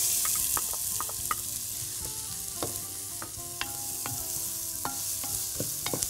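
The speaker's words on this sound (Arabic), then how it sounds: "بس هنحط بقى البصل أول حاجة" Onions fry in olive oil with a little regular oil in a pan, a soft, continuous sizzle close by, broken by repeated sharp clinks and scrapes of stirring; no one talks.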